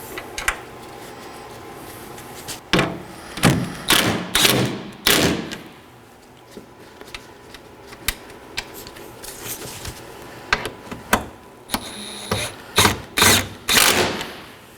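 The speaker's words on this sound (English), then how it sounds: "And now to reinstall our two 10mm bolts." A ratchet clicks in quick bursts while two 10mm bolts are snugged down on a 2013–2019 Nissan Sentra headlight, with sharp close clacks and thumps between quieter pauses.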